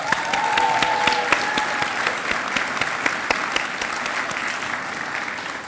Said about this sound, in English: can we give another round of applause for the Professor?